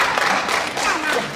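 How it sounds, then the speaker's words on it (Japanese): A short burst of audience applause at an Iwami kagura performance at a festival in Japan, many hands clapping together at a moderate distance, brief and fairly even. "拍手をありがとうございます"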